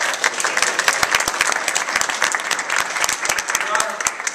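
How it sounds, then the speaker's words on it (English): Courtroom audience applauding, a dense burst of many sharp hand claps close by, continuous for several seconds with speech faintly underneath. "I object to the clapping."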